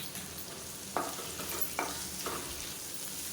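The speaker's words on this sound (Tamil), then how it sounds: "இப்போ வெங்காயம் லேசாக வதங்க ஆரம்பிச்சிருச்சு" Onion, chayote and a handful of mint leaves, with salt, sautéing in a pan, giving a soft steady sizzle broken by a few brief scraping stir strokes, fairly quiet and with no talking.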